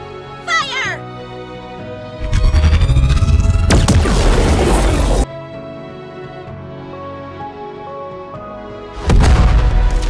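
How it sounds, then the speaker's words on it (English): The Aegis cannon fires in Goddess of Victory: Nikke with loud, deep booming blasts and a sustained rumbling roar, then a second heavy blast near the end, with game voices and music around it. "Aegis cannon!"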